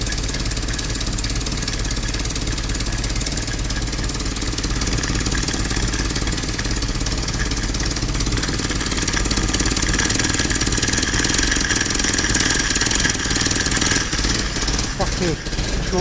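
Ford GPW jeep engine idling steadily with a rebuilt carburetor, a continuous loud rumble throughout with no break.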